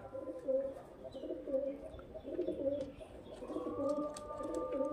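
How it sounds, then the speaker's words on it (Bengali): Old-bloodline Murshidabadi Giribaz pigeons coo in soft, repeated throaty rolls, several birds overlapping close by, with faint chirps and a quiet room background and no talking. "এগুলো সবগুলো কিন্তু মুর্শিদাবাদি গ্রিভাজ লাইনের পায়রা এবং ওল্ড জেনারেশনের পায়রা।"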